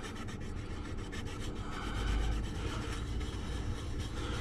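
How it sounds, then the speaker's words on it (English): Steady abrasive scrubbing as corrosion is cleaned off the face of a copper pipe union, a continuous close rasping rub that swells slightly midway. "So we'll just take that corrosion off."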